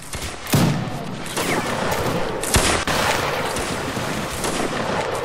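Heavy booming cannon fire in a Napoleonic Wars video game rolls continuously, with loud cannon-like blasts standing out over a dense, crackling barrage.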